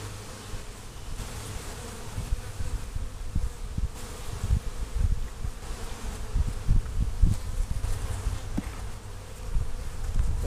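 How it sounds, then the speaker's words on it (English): Dense, steady buzzing from a packed honey bee hive during an inspection, the close swarm drone holding loud and continuous throughout with no talking. "Very packed hive."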